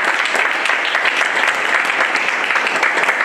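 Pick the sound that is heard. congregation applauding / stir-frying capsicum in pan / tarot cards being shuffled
congregation applauding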